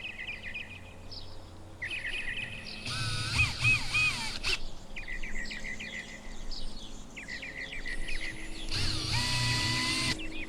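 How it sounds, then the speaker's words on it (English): A small 9/64 drill bit bores out the pillar flanges of a die-cast 1968 VW Beetle toy car, coming through as two short, buzzing bursts of drilling while birds chirp steadily in the background. "I'll take a 9/64 drill bit and drill out the flange of the pillars"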